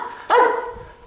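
A dog behind a fence gives a single sharp bark, fairly close and loud, over steady outdoor background noise along a mountain road.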